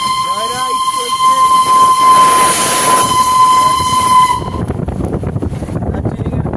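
Darjeeling toy train on a joyride sounds a long shrill whistle over a loud rumbling run, then the whistle cuts off and the rattling clatter of the cars carries on nearby.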